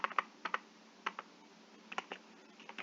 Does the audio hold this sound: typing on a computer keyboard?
yes